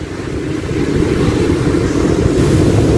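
Sea waves wash onto the shore at Poovar Island in Kerala with a steady, broad roar and wind buffeting the microphone. There are no voices over it.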